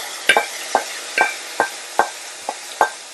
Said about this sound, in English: Finally, we're going to cook our mushroom mix.